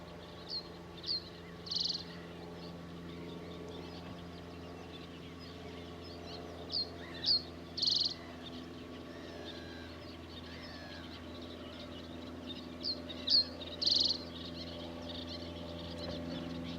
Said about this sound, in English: Plenty of bird song around here.